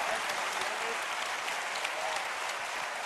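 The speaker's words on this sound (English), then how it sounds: "Give them a round of applause" Crowd applause at an EVE Online Fanfest 2015 stage event, a continuous even wash of clapping from a large audience, moderately distant, with a hint of voices underneath.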